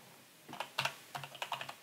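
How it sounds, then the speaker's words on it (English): Quick bursts of close keystrokes on a computer keyboard, a dozen or so light clicks in uneven rhythm, heard alone without talk. "No, it won't let me, so I'm going to have to type it out."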